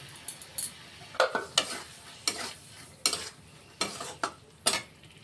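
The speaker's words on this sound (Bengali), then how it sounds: "টমেটোটা আমরা দিয়ে দিলাম।" Tomato sizzling and being stirred in a pan for a Bengali tangra fish curry, with repeated scraping strokes of a spatula over a soft, steady fry.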